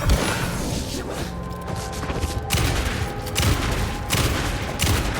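Rapid, loud gunfire rattles throughout a fight in the video game Alan Wake II, with several sharp bursts of shots in an irregular rhythm, close and dominant over a busy background.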